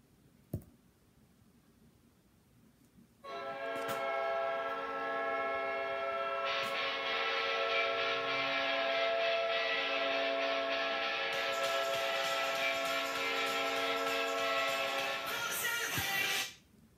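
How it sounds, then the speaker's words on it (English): The Winnipeg Jets' high-pitched goal horn in a hockey arena, one long loud blast that holds steady for about thirteen seconds after a brief click, with no talking. "The Jets have a very high-pitched horn that lasts"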